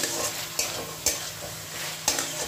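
Squash is stirred and sautéed with spices in a pan, a soft steady sizzle broken by a few sharp scrapes and knocks of the spoon against the pan at uneven intervals.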